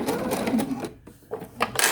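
A sewing machine slowly stitches through fabric scraps up close, its needle chattering in short bursts with a brief pause midway before the rapid clatter resumes.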